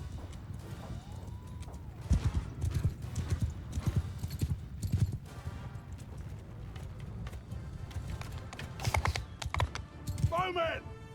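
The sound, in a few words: horse hooves in video game Mount & Blade 2: Bannerlord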